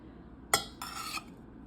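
Drained pasta tipped into a bowl of soft peppers and green onions for a tuna pasta salad, giving a sharp clatter against the bowl followed by a brief rustling shuffle, close and moderately loud.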